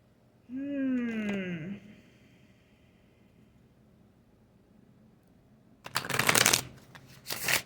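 Tarot and spirit animal cards being shuffled, two quick riffling bursts near the end, close and crisp, after a stretch of near silence.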